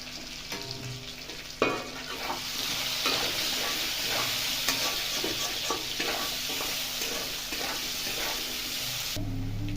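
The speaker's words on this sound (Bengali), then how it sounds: "আলুতে একটু নুন, একটু হলুদ, দিয়ে ভেজে নেবো একটু আলুটা" Potato pieces fry with salt and turmeric in a pan, a continuous close sizzle with frequent stirring scrapes and a sharp knock near the start, no voices.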